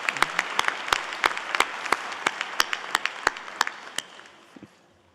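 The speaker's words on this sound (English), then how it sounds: "I think they deserve another round of applause." Applause from a commencement ceremony audience for a choir, a thinning spread of individual claps with sharp accents that fades out toward the end.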